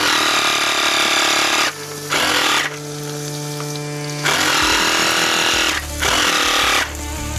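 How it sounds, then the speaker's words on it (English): A Vaculock vacuum sealer, used at a bush campsite at Dunns Swamp in Wollemi National Park, runs in loud close motor bursts, a steady buzzing whine switching on and off several times with a duller hum between. "this is the Vaculock vacuum that we're using"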